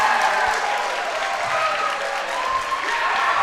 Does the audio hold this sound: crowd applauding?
yes